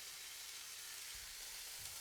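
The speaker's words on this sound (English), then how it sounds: "we're going in a frying pan. Hot frying pan," Beef sizzles quietly in a hot, dry frying pan with no oil, a steady soft hiss with a couple of faint low thumps.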